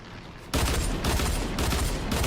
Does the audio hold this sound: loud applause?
no